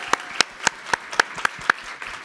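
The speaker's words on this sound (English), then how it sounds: "give a giant round of applause to each of these panelists" A small audience at a real estate masterclass claps for the panelists, a sparse, uneven run of about eight distinct hand claps that taper off quickly.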